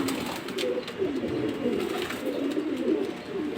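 A grizzle racing homing pigeon coos in a low, steady, near warble that rolls on without pause, with other birds softly audible around it and no talking.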